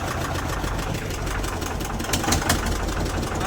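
A motor boat engine runs steadily, loud and close, a rough continuous drone with a knocking mid-low rumble and no voices.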